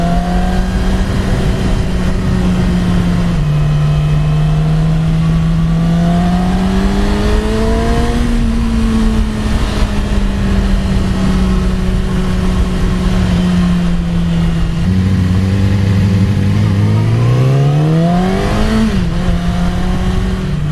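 A 2017 Yamaha R6 sport motorcycle on a test ride, its engine droning loud and close as it revs up and down through the gears, with the pitch rising and dipping steadily throughout and no voices.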